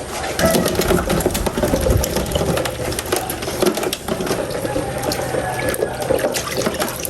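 Mud crabs being washed in a basin of water before cooking, with steady splashing, sloshing and rattling close by that carries on continuously without pause.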